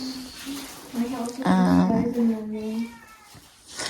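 A house cat meows several times in a short, wavering series, close and fairly loud, with one stronger drawn-out cry in the middle and a faint call at the end.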